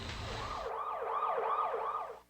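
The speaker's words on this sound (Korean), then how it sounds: "구급차! 구급차!" Wailing ambulance siren sweeping up and down in repeated cycles, loud and close, following a brief burst of broadband noise, with no voices over it.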